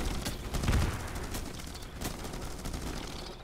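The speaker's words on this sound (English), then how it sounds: "Fire at will." Rapid gunfire crackles through a battle in the sci-fi strategy game Starship Troopers: Terran Command, with repeated sharp bursts and a few heavier thumps layered over a dense, steady din of combat.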